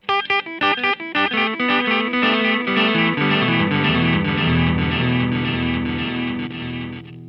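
Electric guitar notes run through a gritty lo-fi digital delay, repeats piling up into a dense, slightly distorted wash that sustains and slowly fades.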